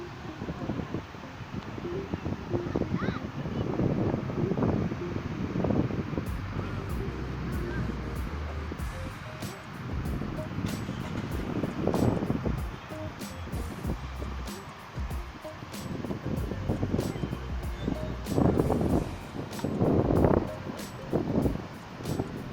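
Gusty wind at the beach buffeting the microphone outdoors, rising and falling in irregular rushes, with faint background rumble.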